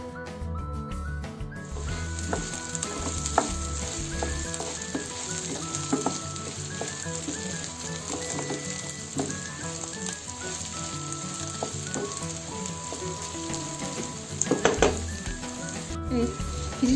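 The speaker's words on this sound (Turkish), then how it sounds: "Şimdi pirinçlerimizi kavurma işlemine geçebiliriz." Rice toasting in a pan for pilaf gives a steady dense sizzle throughout, with soft scraping and stirring taps on top and a few louder clatters near the end.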